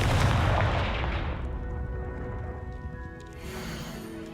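Confringo fire spell blast in the Hogwarts Legacy video game, a loud booming explosion with a roaring burst that fades into a lingering ringing tail, followed by a softer second whoosh.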